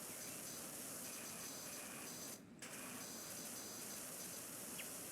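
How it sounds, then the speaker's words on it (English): Pressure washer in Powerwash Simulator blasting a window frame: a continuous broad, hissing spray, moderately loud and steady, with one brief cut-off midway before the stream resumes. "Can't even tell what I'm actually spraying right now. Window frame."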